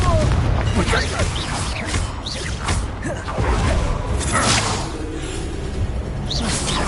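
A Confringo spell blast in Hogwarts Legacy erupts amid a magical duel, with whooshing swishes and heavy booming impacts over a loud, busy combat backdrop, voices speaking intermittently.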